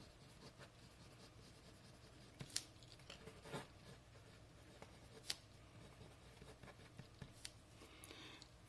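A Preppy fountain pen writes on Chiffon Cream paper held down by fingers, giving soft, close scratchy strokes with a few sharper ticks and scrapes scattered irregularly against a quiet background.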